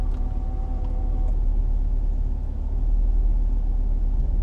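A Range Rover's engine drones steadily while driving, a continuous low rumble with road noise holding at a constant level throughout.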